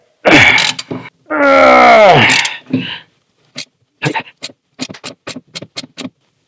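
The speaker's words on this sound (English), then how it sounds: "I'm just doing this with a 1/4 inch dry ratchet and a 1/2 inch shallow socket" A 1/4 inch drive ratchet with a 1/2 inch shallow socket snugs down bolts on a Scout during dash and steering column installation. A voice comes first, then a string of short, crisp ratcheting clicks in quick bursts, close by.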